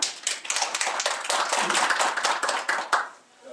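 A burst of applause from a crowd, dense clapping that holds steady for a few seconds, then tapers off.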